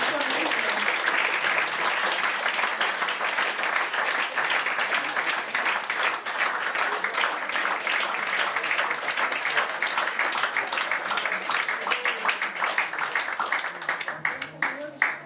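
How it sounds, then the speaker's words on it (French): Sustained applause from an audience at a public debate with healthcare workers in Figeac, steady and dense clapping filling the whole stretch, loud and close, with some voices mixed in underneath. "Applaudir les soignants, applaudir les soignants."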